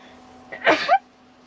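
A single short, sharp sneeze bursts out close by in an otherwise quiet room.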